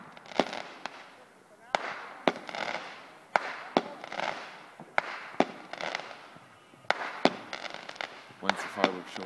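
At a cottage, a fireworks show sends sharp bangs and crackling bursts at irregular intervals, some loud and close, others more distant, with people talking quietly in between.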